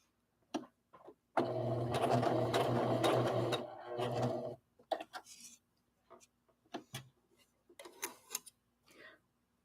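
Sewing machine stitching a rag doll, running in one steady buzzing burst of about three seconds, followed by short stop-and-start bursts of a few stitches each with pauses between.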